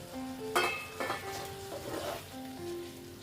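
Paneer cubes dropped into a pan of sizzling mustard-poppy paste, giving a steady close crackle with sharper hissing bursts as pieces hit the hot paste and are stirred.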